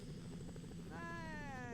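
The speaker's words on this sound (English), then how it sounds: "the helicopter's here" Helicopter arriving in The Sims, Strangetown: a faint, steady rotor thrum that grows a rising whine partway through, continuous and distant under the game's background.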